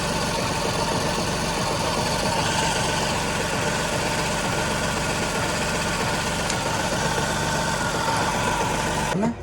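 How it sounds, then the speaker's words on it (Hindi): A Tata Revotron three-cylinder petrol engine, as fitted to the Tiago, Tigor and Altroz, idles with a misfire, giving a steady, loud, close-up rumble with a slightly uneven, shaky beat that runs throughout. "अभी देखते हैं हम इंजन मिसिंग कैसा कर रहा है"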